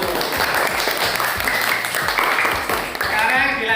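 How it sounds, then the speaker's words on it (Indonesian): Applause for group 1 during a classroom Islamic jurisprudence lesson on almsgiving, a steady wash of clapping from a group lasting several seconds, mixed with some voices. "Beri aplaus untuk kelompok 1."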